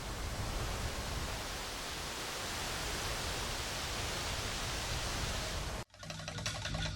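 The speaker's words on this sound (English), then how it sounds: "The leaves of a bamboo thicket near a village rustle softly in the breeze." Leaves of a bamboo thicket near a Japanese village rustle in the breeze as a steady, dense hiss that runs without pause, then cuts off abruptly near the end to a much quieter background.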